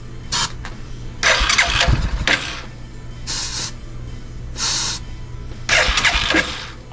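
A Hisun 400 ATV with its choke pulled out cranks repeatedly without catching, several close, loud bursts of starter whir broken by short pauses.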